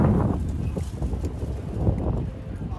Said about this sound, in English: So guys, it's super windy.